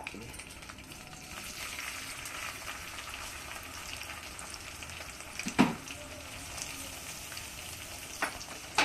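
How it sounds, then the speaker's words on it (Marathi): Finely chopped onion frying in a pan for pav bhaji makes a continuous close sizzle, broken by a few sharp clatters of stirring. "कांदा आपण छानसा परतून घेऊया लालसर होईपर्यंत परतून घेऊया"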